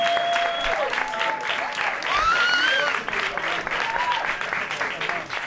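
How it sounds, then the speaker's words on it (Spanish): Applause breaks out for a comedian's stand-up set and stays dense and lively, with cheers and whistles carried on top. It fades a little toward the end while people call out. "pidiendo un aplauso muy fuerte para Jaime Caravaca."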